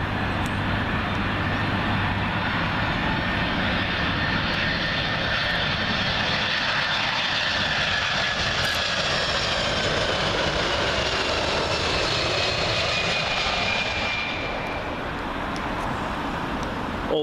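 A United Boeing 767 arriving at Heathrow from Newark roars past in a steady, loud jet rumble that holds for most of the stretch before easing off near the end, with no talk.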